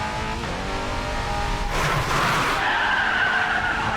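A Bugatti Centodieci in the Racing Master video game roars at full throttle, its loud engine drone joined by tire skidding and squealing, close and continuous.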